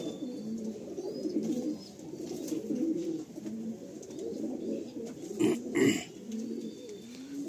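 Pigeons coo steadily in a loft, soft overlapping throaty calls running continuously close by, with a brief louder flutter of sound near the end.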